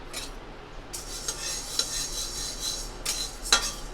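Curry leaves hit hot oil in a pan and give off sharp hissing bursts of sizzle, with metal spoon scrapes and stirring clinks close by and no talk.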